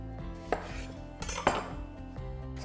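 Vegetables for a saffron vegetable tagine are placed into a tagine pot, giving a few light clinks and knocks of food and utensils against ceramic, close by and sparse, with no talking.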